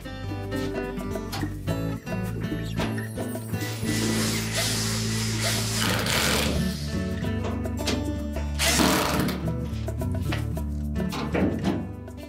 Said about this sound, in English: And then we'll reinstall the two mounting screws.